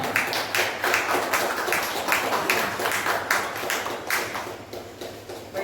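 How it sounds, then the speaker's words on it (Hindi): An audience claps at a farewell ceremony, a rapid, fairly loud rattle of many hands that holds steady over several seconds against a busy room background. "जोरदार तालियां।"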